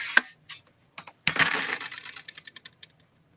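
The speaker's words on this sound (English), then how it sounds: "I'm going to start cutting. I'm just going right into my zigzag here." Scissors snip through fabric along a zigzag line, a few sharp separate clips followed by a denser run of quick crisp cuts, close and fairly quiet with no talking.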